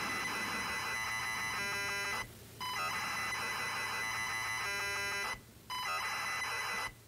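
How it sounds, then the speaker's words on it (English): Harsh electronic beeping and buzzing from the horror game Stories Untold, a dense tonal drone repeating in long bursts broken by two brief gaps, loud and steady with no voices. "Beeping and noises."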